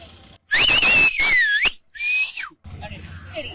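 Sharp, loud whistles from people at a bull's entrance during the Palamedu jallikattu: a long shrill blast, a shorter one after a brief gap, then crowd noise.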